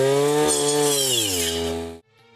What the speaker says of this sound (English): Weeder is being used by attaching this special circular blade for this purpose.